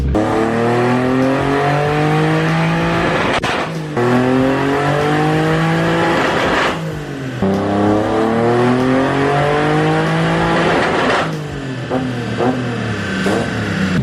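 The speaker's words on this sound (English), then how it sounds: "Bro, his car is so freaking loud" A loud BMW E46 M3 drift car engine revs hard and repeatedly, pitch climbing and dropping in long sweeps with brief gaps, close and roaring throughout.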